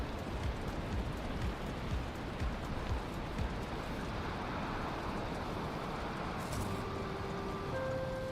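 Steady rain falls in the Valheim game world, a constant even hiss of drops on surfaces with faint tones appearing near the end.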